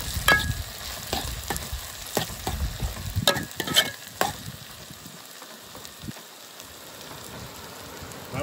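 Tomatoes sautéing in a pan for dry fish sambal, a close sizzle with repeated sharp spatula scrapes and taps early on that settles into a quieter, even crackle.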